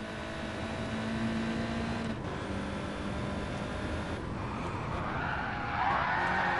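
An Audi TT racing on the Nürburgring GP circuit in GT Sport skids through an attempted handbrake turn, a steady engine drone and tire noise holding throughout, rising and brightening with a screech near the end.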